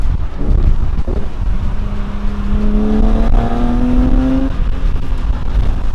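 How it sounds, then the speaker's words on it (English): A supercharged Nissan 350Z with a manual gearbox drives on amid heavy wind rush, its engine note climbing steadily and then dropping sharply as it downshifts, loud and close. "You can do a bit of a downshift also."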